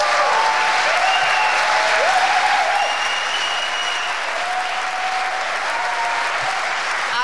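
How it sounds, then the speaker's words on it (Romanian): Loud, sustained applause from a theatre audience at the UNITER awards gala, steady dense clapping with a few whoops, continuing unbroken throughout. "să-i aplaudăm atât de tare încât să-i audă și vecinii lor"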